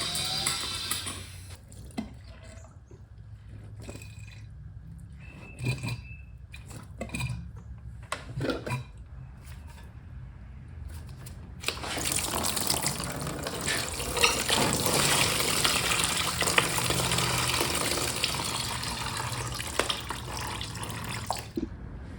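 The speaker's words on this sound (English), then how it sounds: "I'm going to try to pump out as much as I can from the overflow" Coolant pumped out of a neglected Triumph's radiator overflow and drained: faint gurgling and trickling at first with short clicks, then a loud, steady rush of pouring liquid for the second half.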